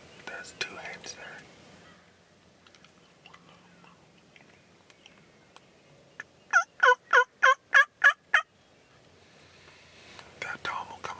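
Wild turkeys in the field, hens and a tom, with a rapid run of about seven loud, rhythmic gobbles near the middle. Quiet whispering voices and soft rustles are heard before and after.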